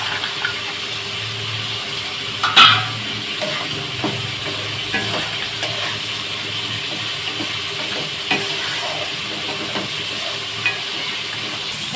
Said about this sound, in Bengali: আমাদের গাজর আর বিনস ভাজা হয়ে গেছে। এবার দিয়ে দিচ্ছি কাজু আর কিশমিশ।